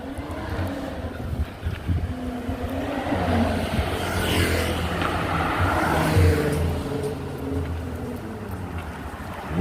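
A fancy-looking car passes along a street in Gibraltar, its engine and tyre noise swelling steadily to a peak midway, then fading as it moves off, heard close among street ambience.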